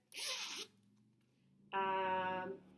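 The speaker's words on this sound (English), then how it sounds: "Let me unzip it." A zipper is drawn open on a small handmade lined fabric bag, a short raspy pull followed after a pause by a second, longer zip, close and fairly quiet.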